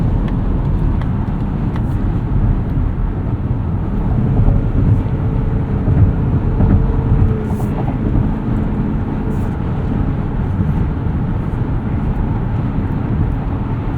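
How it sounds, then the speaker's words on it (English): Steady low road and engine drone from inside a 2025 Mazda CX-50 Hybrid cruising at highway speed, with constant tire and wind rumble and no talking. "No issues getting up to speed on the highway."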